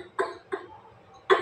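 A person said to have whooping cough gives three short, harsh coughs close by, two in quick succession and a third after a brief pause.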